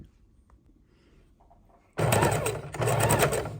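A sewing machine stitches a quarter-inch seam on a pinwheel quilt block of red, white and green strips, starting suddenly after near silence, running fast and loud with a brief pause before continuing.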